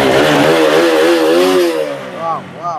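A Walton motorcycle engine revs hard, its pitch climbing and wavering in loud close bursts before easing off, with a brief second rev near the end.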